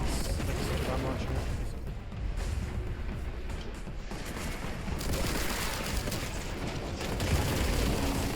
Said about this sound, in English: Grenade launcher is really dope.